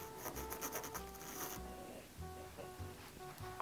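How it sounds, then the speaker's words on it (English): A pen draws a quarter inch line while making a double zipper pouch with a clear vinyl pocket, giving soft rhythmic scratchy strokes close by over faint background hum, with no talking. "I'm going to draw a quarter inch"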